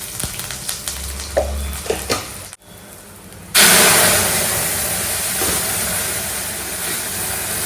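Dal cooking in a pan on a home stove as turmeric is stirred in, a broad steady sizzle that jumps louder after a brief gap, with soft clinks and stirring sounds earlier on.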